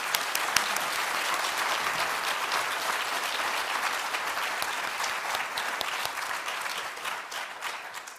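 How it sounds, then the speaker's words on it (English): Sustained applause from an audience at a digital preservation awards ceremony honors student nominees and finalists, an even, dense clapping that holds steady throughout. "please join me in a round of applause for all of these great student nominations and finalists"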